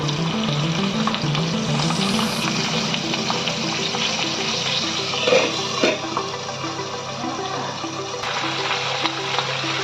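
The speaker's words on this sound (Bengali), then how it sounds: "তেলটা গরম করার পর এই আমি মাছ ছেড়ে দিলাম" Pieces of rohu fish fry in hot oil, a close, steady crackling sizzle that runs throughout, with a few louder spits and a brief clink partway.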